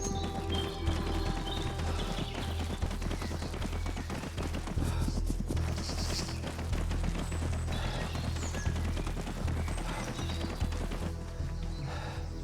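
Rapid, steady clip-clop of a galloping horse's hooves, continuous and fairly close, with a brief whinny and a busy outdoor backdrop in game-like sound; a horse galloping into woods in the game Sea Power.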